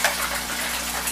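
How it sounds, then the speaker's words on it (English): A MarineLand Penguin 350 Bio-Wheel aquarium filter pours water in a steady, close, rushing gush with an even splashing hiss throughout. "You can see it's putting out serious water flow."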